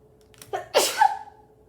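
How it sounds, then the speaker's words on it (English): A single sharp sneeze with a short intake of breath before it, close and fairly loud. "I told y'all I've been sneezing."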